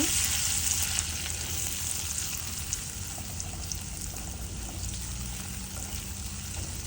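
Turmeric and chilli powder fry for a jackfruit seed curry, giving a loud, continuous close sizzle with a faint stirring texture running evenly throughout.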